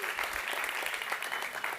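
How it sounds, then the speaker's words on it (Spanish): Brief, fairly faint applause from a church congregation during a sermon, a short patter of clapping. "un aplauso"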